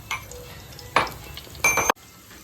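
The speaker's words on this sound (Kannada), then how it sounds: "ಎಣ್ಣೆಗೆ ಫಸ್ಟ್ ಬೆಳ್ಳುಳ್ಳಿ ಬಣ್ಣಿ" Garlic dropped into hot oil in a home kitchen for a clam sukka, with short bursts of sizzling and stirring separated by quieter gaps, close and moderately loud.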